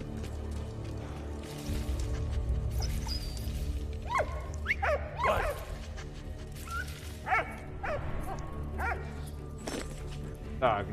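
A dog in Valiant Hearts digs and whines, giving a string of high yelps and whimpers over a scratchy, rustling scrape of pawing at the ground, all fairly close and moderately loud.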